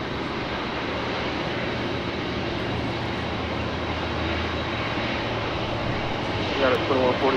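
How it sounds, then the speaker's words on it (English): A Boeing 747 jet airliner rolls out on a runway at LAX, giving a steady, continuous broadband engine roar throughout with a slight rise near the end; radio chatter sounds faintly underneath. "747 rolling out"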